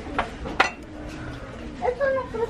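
Ceramic plates and cups clink together as they are handled, with two sharp knocks close by early on, followed by a voice speaking over faint handling noise.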